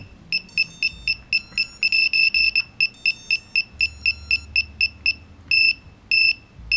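A quadcopter's buzzer sounds a no-signal alarm while its transmitter is off: loud, rapid repeated electronic beeps in uneven bursts, some single and some clustered, over a quiet low hum.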